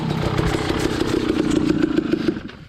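A KTM 300 Enduro dirt bike engine runs close by with a loud, rapid two-stroke putter and clattering pulses that fade slightly at the end.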